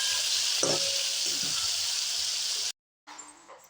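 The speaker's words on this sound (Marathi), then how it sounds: "आपण टोमॅटो टाकून घेऊया." Tomatoes frying in a pan of oil for pav bhaji, giving a steady close sizzle with a few stirring scrapes, then a brief silence before the frying resumes more quietly.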